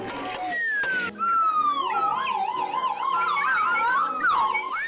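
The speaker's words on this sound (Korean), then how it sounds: "입으로 부누님의 강약, 휘슬을 미는 속도에 따라 소리가 달라지는 휘슬" A slide whistle glides up and down in wavering swoops, loud and close, with a brief burst of other noise at the start and end.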